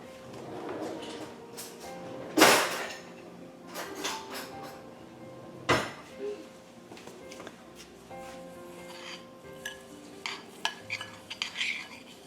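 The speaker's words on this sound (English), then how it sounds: "we're going to get a spoon and we're going to mix that together" A spoon scraping and clinking in a bowl while stirring sugar, melted butter and graham cracker crumbs together for a cheesecake crust, with a few sharp knocks against the bowl and light irregular scraping up close.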